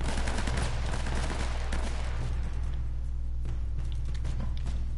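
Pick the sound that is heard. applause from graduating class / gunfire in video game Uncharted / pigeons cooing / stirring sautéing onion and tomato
gunfire in video game Uncharted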